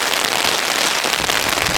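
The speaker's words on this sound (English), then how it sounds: "in the middle of a hailstorm, as it can be seen" Hail falling hard during a hailstorm on a golf course, a dense continuous hiss and patter of stones hitting the ground, loud and steady throughout with no voices.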